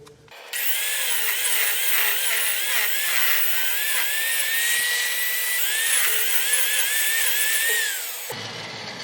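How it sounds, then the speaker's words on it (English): An angle grinder fitted with a saber-tooth cutting disc carves wood in a near, loud, continuous whine with wavering pitch for about eight seconds, dropping off at the end; no speech. "saber-tooth cutting disc in my grinding angle grinder"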